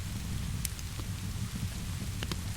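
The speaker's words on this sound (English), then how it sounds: "his voice a soft counterpoint to the rain" Steady rain falls outside a workshop, a dense, even patter with a few sharper drips standing out, continuous and fairly close.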